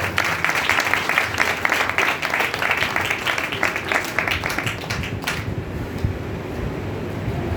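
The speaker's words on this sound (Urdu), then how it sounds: "اور اپنے مسیح کے لیے تالی بجائیں گے" A church congregation claps for Christ during a service, a dense sustained wash of many hands that runs loud for about five seconds and then breaks off abruptly, leaving only a faint room hum.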